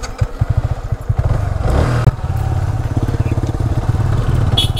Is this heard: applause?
no